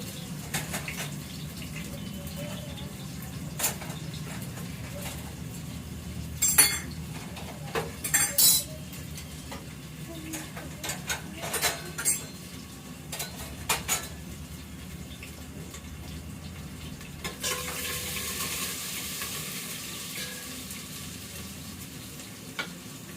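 Cumin, onion, and red and green chillies frying in a pan produce a steady close sizzle, broken by occasional clinks and scrapes of a utensil, with a louder hissing burst near the end.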